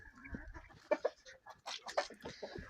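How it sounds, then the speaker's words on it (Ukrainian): Faint, soft clucking from a young rooster and hen, a few short scattered calls at low volume. "Півник, молоденький, молодесенький півник і, і молодесенька курочка."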